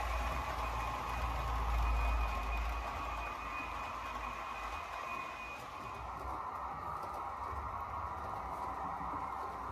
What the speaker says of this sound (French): notre train il va faire son entrée en gare de Paris-Est